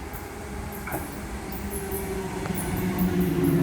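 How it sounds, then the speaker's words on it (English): A Waratah passenger train on a Central service pulls toward platform 1 at Normanhurst station, a steady low rail rumble growing gradually louder as it nears, with faint squeals and clicks from the wheels. "We have a Waratah approaching platform number 1."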